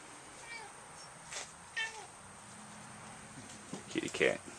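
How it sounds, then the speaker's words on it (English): A cat meows several times, short faint calls at first and then a louder, higher cluster of meows near the end, heard indoors where a net is being knotted by hand. "Kitty cat."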